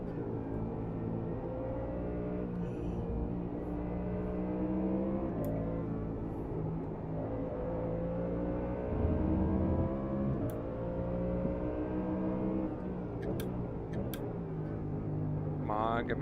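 GT3 race car engine droning through a lap at Spa in a racing game, a steady buzzing tone rising and falling with gear changes while a voice talks over it.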